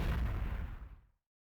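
Missile explosion from the Nintendo DS game Ghost Trick: Phantom Detective, a single loud, heavy blast with a deep rumbling body that fades out over about a second into silence.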